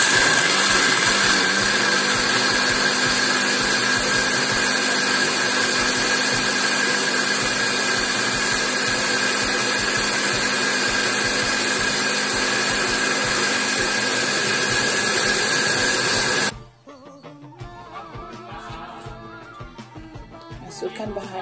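A blender grinding chili and turmeric with a little water whirs loudly and steadily for about sixteen seconds, then cuts off abruptly, leaving quieter clatter and faint background sounds.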